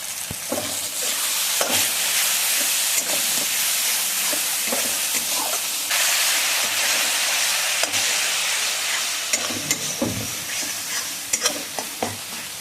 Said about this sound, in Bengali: মশলাটা কিন্তু অনেকক্ষণ ধরে আস্তে আস্তে কষিয়ে নিতে হবে